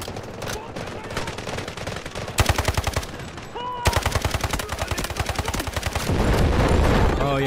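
Rapid automatic gunfire from a weapon in the mobile shooter game Delta Force: Mobile comes as loud, close bursts of fast repeated shots with short gaps between them, and a voice talks over it.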